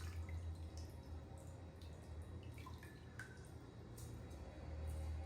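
Water from soaked rice being poured off, a steady run of small drips and trickles at close range, with a low continuous hum underneath and no talking.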